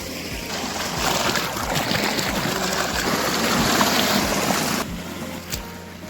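Irrigation water pumped by a motor flows into a maize field channel, a loud, continuous rushing gush that drops noticeably near the end, with no talk.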